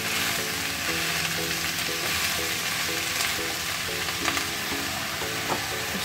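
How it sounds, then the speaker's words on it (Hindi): Chow mein noodles being stir-fried with chili flakes, a steady loud sizzle with repeated scraping and tossing of the pan throughout, no voices. "और एक चम्मच डाल रहे हैं चिली फ्लेक्स, अब बस इसको अच्छे से मिक्स करते हैं।"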